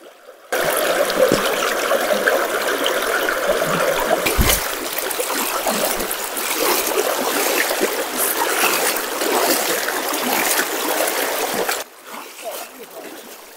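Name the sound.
fast-flowing river water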